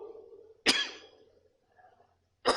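Two sharp, harsh coughs from one person in a coughing fit, a second apart, preceded by a brief voiced murmur and otherwise quiet.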